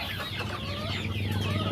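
Chickens cluck and chatter continuously on a farm in Bohol, several birds close together with overlapping calls and a low background hum.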